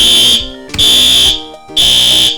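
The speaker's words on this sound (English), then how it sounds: "so that was a fire alarm" A fire alarm blares in three loud, long bursts of piercing electronic tone with short gaps between them. A brief spoken word is heard.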